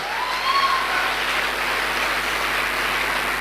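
An audience at a leadership speech event gives sustained applause, a dense hiss of many hands clapping at steady volume, with a faint tone drifting over it.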